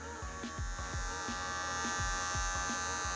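An electric hair clipper buzzes steadily and up close while trimming a vertical fade on a full Spartan-style beard, its hum broken by a regular rhythm of short strokes with no talking.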